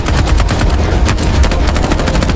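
Loud, dense gunfire rattles in rapid machine-gun bursts throughout, a continuous close barrage of shots with no talking.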